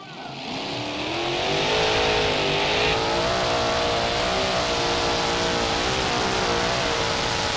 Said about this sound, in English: But on the first track now, the Breaker Junior with his second attempt.